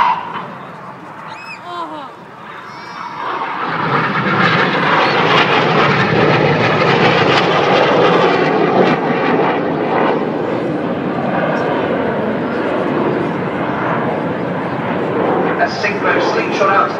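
Red Arrows display jets pull a 6G turn at the Farnborough International Airshow, their engines building from a quieter start into a loud, sustained roar that swells and lingers as they turn away from the crowd.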